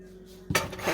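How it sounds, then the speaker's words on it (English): After a faint hum, a short close burst of aerosol hiss as cooking spray oil is sprayed onto a banana bread pan. "I'm gonna spray the pan with"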